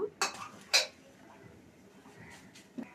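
A spatula clinks sharply against a pan twice in quick succession while flipping a gram flour pancake, followed by softer scraping and a faint tap near the end.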